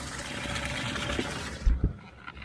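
A bass boat's livewell pump recirculating water inside the livewell of an aluminum bass boat, with steady rushing and gurgling flow, a couple of louder sloshes, and then an abrupt drop to a quieter trickle near the end.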